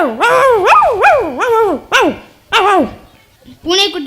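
At a school competition, a voice mimics a dog: a rapid run of rising-and-falling barks, then a few separate yelps and a whimpering call, all close and loud.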